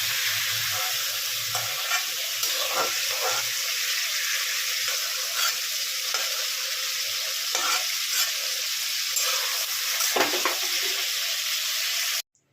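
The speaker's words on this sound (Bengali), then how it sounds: "আমি এবার তেলের মধ্যে একটু কালো জিরে ফোড়ন দিয়ে দিচ্ছি" Nigella seeds tempering in hot oil in a pan for a ridge gourd, potato and poppy seed curry: a close, steady sizzle and crackle with occasional stirring scrapes, cut off abruptly at the end.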